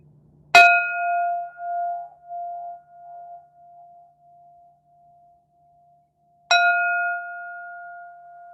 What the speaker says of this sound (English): Fourth bell.